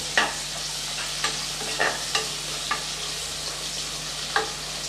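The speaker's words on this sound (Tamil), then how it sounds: "வெங்காயம் நல்லா பொன்னிறமாக்குற வரைக்கும் நல்லா வதக்கி விட்டுக்கணும்" Sliced onions sautéing in a pan for vegetable biryani, a steady soft sizzle with a spoon stirring and scraping in several distinct light clinks spread through the passage, close and fairly quiet, no talking.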